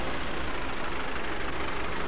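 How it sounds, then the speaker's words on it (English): Tractor engine in Farming Simulator 22 running at a steady idle, a continuous low rumble with no clear start-up, fairly loud and alone throughout. "But go ahead and start up the old tractor here."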